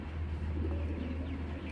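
A plump racing pigeon coos softly, close by, under a steady low hum of background noise.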